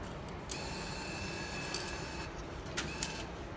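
A Beijing subway ticket machine rejecting a banknote makes a steady mechanical whir, broken by a few sharp clicks near the start and end. Fairly quiet, with no talking.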